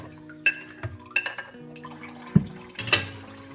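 Water splashing and dripping as soap suds are rinsed off dishes over a bucket, with a few light clinks of plates and cutlery, close and intermittent with no voices.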